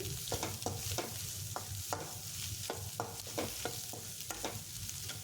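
Egg mixture stirred in a hot pan for egg fried rice, a spatula scraping in regular close strokes over a steady sizzle, no voices.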